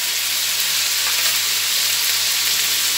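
Garam masala and red chilli sautéing in hot oil in a pan while being stirred, a loud, constant close sizzle with faint scraping, no talking.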